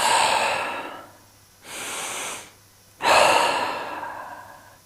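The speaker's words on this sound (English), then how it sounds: "2 breaths here." Slow, audible yoga breaths during a hatha flow, a long airy exhale, a quieter inhale, then another strong exhale, close to the mic with no talking.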